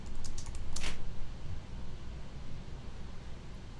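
Keys on a computer keyboard tap out a few quick, faint clicks near the start over a steady background hiss, then only the hiss continues.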